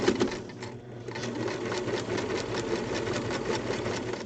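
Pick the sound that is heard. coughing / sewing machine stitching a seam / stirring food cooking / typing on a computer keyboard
sewing machine stitching a seam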